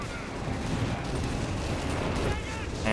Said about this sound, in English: And there's the artillery barrage